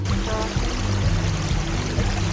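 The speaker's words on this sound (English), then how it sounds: "Do you love the river, the little creek, Zelda?" Water in a little creek along the Cliatt Creek Trail in Mistletoe State Park flows and pours steadily up close, a continuous splashing stream with a low rumbling undertone.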